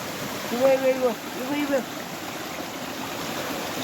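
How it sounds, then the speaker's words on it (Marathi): A mountain stream runs steadily down a hillside in the Konkan hills at night, with a constant rushing flow heard under a couple of short spoken words near the start. "डोंगरा डोंगराच्या सईनं पाणी येत आहे बघा म्हणजे असे झरे कसे होतात"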